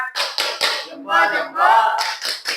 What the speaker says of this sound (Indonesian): Sekali lagi kita kasih tepuk hebat dulu buat Isan.